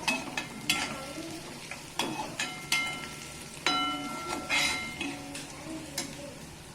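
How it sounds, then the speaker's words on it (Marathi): Onions frying in oil with cumin in a pan for a Maharashtrian peanut and onion chutney, with steady sizzling and repeated stirring scrapes and light utensil clinks at a close distance. "आता आपण दोन ते तीन कांदे परतवून घ्यायचे"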